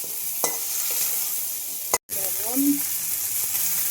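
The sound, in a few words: mustard, cumin and green chili paste frying in oil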